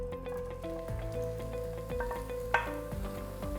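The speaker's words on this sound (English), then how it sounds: "We're gonna saute these for a little bit." Kunafeh pieces sautéing in ghee in a pan, a quiet close sizzle with stirring scrapes and a sharp clink partway through, no voices.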